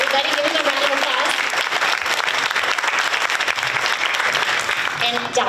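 Applause from an audience at an elementary school renaming dedication ceremony, a dense, steady wash of clapping lasting throughout, with voices and cheers mixed in.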